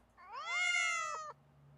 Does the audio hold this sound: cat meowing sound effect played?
yes